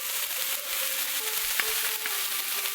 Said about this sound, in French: Je fais revenir à nouveau 2-3 minutes en y ajoutant aussi les épices sèches qu'on a préparées tout à l'heure.